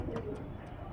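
Tiger-breed pigeons from Andhra coo in a brief, low, soft burble heard close by, with no other sound over it.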